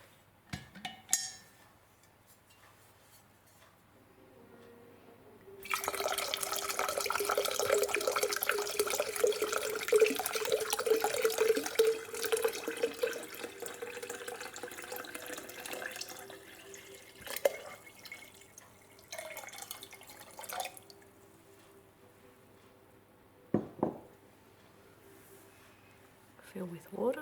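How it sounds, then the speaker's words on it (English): Tap water runs into a jug of homemade lemonade with lemon juice, a steady close splashing stream for several seconds that then stops, followed by faint clinks and drips. "Fill with water"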